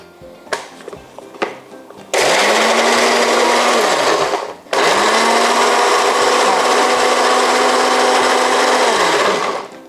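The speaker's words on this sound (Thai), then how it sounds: "แล้วก็ผสมกันในเครื่องปั่นนะคะ เอาแบบแรงสุดเลยนะคะ" A blender mixing salad dressing roars at top speed in two long bursts, its motor pitch rising and then dropping as it stops, after a few short clicks and knocks.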